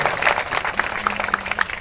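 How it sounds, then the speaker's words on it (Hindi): Audience applause at a village gathering, a brief burst of scattered clapping that stays fairly close and moderately loud, with no talk over it. "उन सब लोगों को खूब जोर से ताली बजा के आपको बधाई देनी चाहिए"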